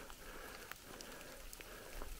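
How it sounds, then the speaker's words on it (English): Steady rain falling in the Superstition Wilderness of Arizona, a continuous soft broadband patter with scattered nearby drop hits, heard alone at low level. "it's been raining for a few minutes now"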